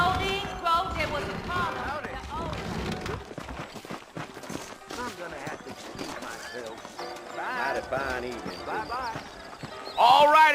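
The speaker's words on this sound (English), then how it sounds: "I got the horses saddled up and ready out front." Hooves clip-clop steadily as horses move along in Red Dead Redemption, with a neigh near the end, under ongoing talk and background music.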